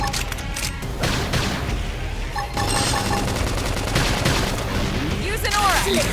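Gunfire in Xenoblade Chronicles X during a battle, dense rapid bursts and booming shots layered over continuous game sound and effects for several seconds, loud and close.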